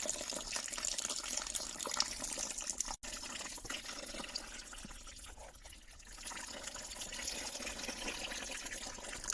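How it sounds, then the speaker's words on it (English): Water runs and splashes steadily while a workshop press is being hosed down to wash off muck, a continuous close hiss with a short break partway through. "I thought it's time to give it a little bit of a wash down"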